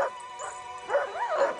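Agitated dogs whine and bark in rising, wavering yelps and whimpers, several short cries close together, loud and near with no talking.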